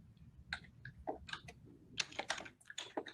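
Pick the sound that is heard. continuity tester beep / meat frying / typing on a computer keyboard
typing on a computer keyboard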